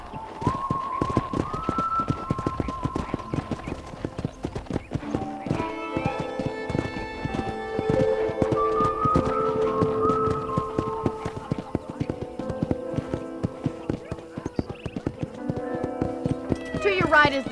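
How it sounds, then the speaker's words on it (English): Horse hooves clip-clop at a steady riding pace in the video game Red Dead Redemption, running continuously with a brief whinny near the start, under ongoing dialogue and soft music. "let's see if you can still ride a horse"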